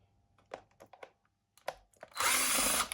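A power screwdriver whirs loudly in one short burst as it backs Torx screws out of a Minelab Gold Monster metal detector, following a few small clicks and handling taps up close.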